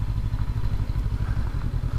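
A stock 2019 Honda CB500X motorcycle rumbles along off road in Oregon, its mid-pitched engine throbbing steadily and close alongside light rattling, with no speech.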